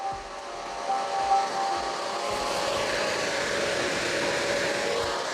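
A Zotac RTX 3080 graphics card under load at around 80 degrees Celsius, its fans roaring in a loud, steady rush with a thin tonal whine riding on top, close and unbroken.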